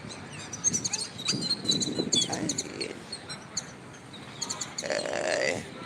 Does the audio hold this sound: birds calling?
yes